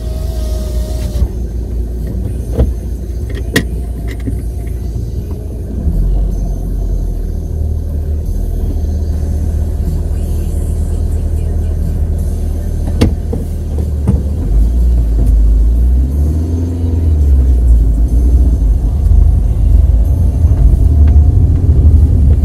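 A car driving on Madeira toward Ponta de São Lourenço, heard from inside the cabin: a continuous low road rumble and engine drone, a few light clicks and knocks, with the rumble swelling louder toward the end.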